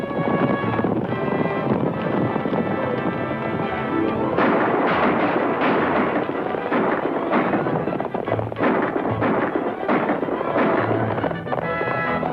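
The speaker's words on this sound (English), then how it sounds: "Shoot over the head." Gunshots fired over a man's head in a 1942 Western action film, heard as a series of sharp, loud reports and volleys spread across the scene with a raised voice in between.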